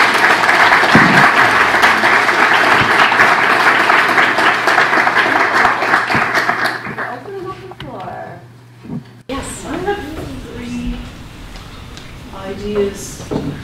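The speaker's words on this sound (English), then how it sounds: "so first of all, I have the applause." Sustained audience applause fills a meeting room on advance requests for medical assistance in dying, dense and loud for about seven seconds, then thinning out into scattered claps and room murmur.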